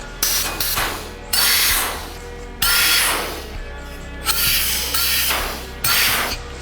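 Bursts of compressed air hiss loudly from an INTERTOOL PT-0705 sandblasting gun running on a compressor, several sharp spraying blasts of about a second each, separated by short pauses.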